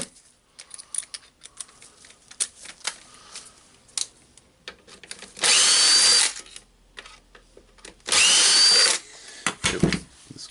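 A Hilti TE 706-AVR breaker being repaired after a burned field is worked on with a power tool unscrewing its screws: two loud, steady whirring bursts of about a second each, separated by quieter clicks and handling knocks.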